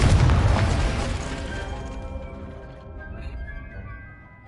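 A Confringo spell explosion in Hogwarts Legacy, a single loud booming blast that rings out and fades over a few seconds.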